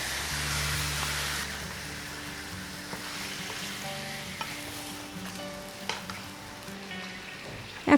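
Marinated chicken for chicken curry fries in a pan with a steady, close sizzle and soft stirring scrapes, ending in a brief utensil clatter. No one speaks.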